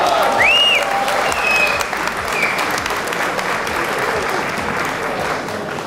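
Wedding guests applaud strongly at a grand Turkish wedding ceremony, a dense sustained clapping of a large crowd, with a few high whistles early on.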